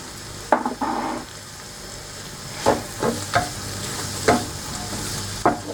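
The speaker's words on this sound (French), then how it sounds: "je vais ajouter déjà les poivrons parce que j'aime bien quand ils sont bien cuits" Bell peppers fry in a pan with a constant sizzle, broken by several sharp utensil scrapes and clacks at irregular intervals as they are stirred, and no voices.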